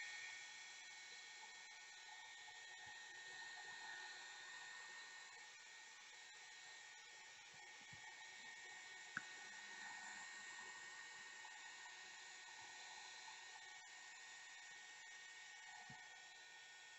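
A handheld heat tool blows steadily while drying gesso on a grunge-style junk journal cover, a continuous whirring hiss that holds an even level for the whole stretch with only a few faint clicks.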